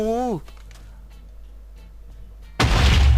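An explosion in a Minecraft escape room map: a brief voice at the start, a quiet stretch, then a sudden loud broadband blast that keeps roaring to the end.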